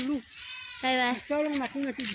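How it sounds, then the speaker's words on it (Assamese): Several goats bleat in short, wavering calls, a few distinct bleats in quick succession, close and clear, with household background noise. "এয়া আমাৰ ছাগলী"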